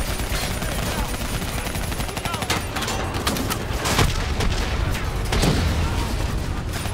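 Call of Duty Black Ops III battle as an APC is destroyed by gunfire: relentless automatic fire and booms, loud and dense, with a voice talking through the fighting.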